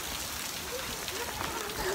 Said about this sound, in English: raining so much and we can't go home